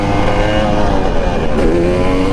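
A two-stroke supermoto motorcycle revs loudly and close by, its buzzing engine rising and falling through continuous blips with no voices over it.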